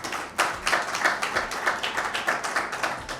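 An audience at a Mother's Day mushaira claps warmly for the poet Ejaz Gill, a dense, steady round of applause with rhythmic clapping peaks that holds for the full few seconds.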